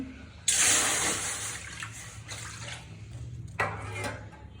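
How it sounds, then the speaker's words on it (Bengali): Water gushes into a karai (wok) set on a stove while sweet bread-based khaja is made. A sudden splashing pour starts, runs steadily, then surges briefly again near the end. "এখন হচ্ছে আমি দিয়ে দিচ্ছি পানি"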